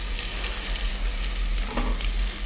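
Spice masala, being prepared for a peas pulao, fries and is stirred in a hot pan. It makes a steady, dense sizzle with scraping stirs throughout, close and fairly loud, and no one talks.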